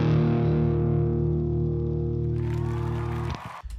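Heavy distorted electric guitar chord through the Fire Breather amp in Guitar Rig, a thick sustained buzzing chord that rings for about three seconds before being choked off with a scratchy string noise.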